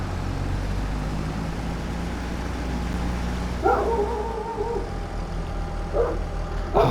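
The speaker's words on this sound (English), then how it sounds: "Oh, sorry about that darn dog, even outside." A dog barks outside through an open window, a few short yips and barks that come in bursts over a constant low engine hum from a tractor game running indoors.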